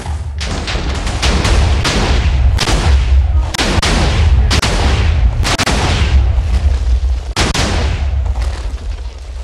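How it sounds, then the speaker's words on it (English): A detonated double-barrel cannon blasts repeatedly, a loud rapid run of booming explosions and crackling bursts over a continuous heavy rumble, close and dense throughout. "Let's detonate it and see how much destruction I can bring."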